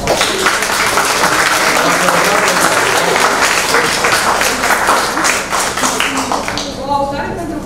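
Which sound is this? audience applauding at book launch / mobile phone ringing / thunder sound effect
audience applauding at book launch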